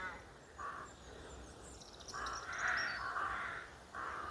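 Several crows caw repeatedly in short harsh bursts, some overlapping, at moderate distance over faint background hiss, in a wooded cemetery.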